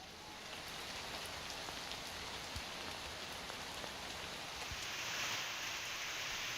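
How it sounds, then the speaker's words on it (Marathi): Heavy stormy rain with wind pours down steadily in Washim, Maharashtra, a dense even hiss of drops on surfaces, growing slightly louder toward the end, with no voices. "वाशिममध्ये वादळी वाऱ्यासह तुफान पाऊस पडलाय"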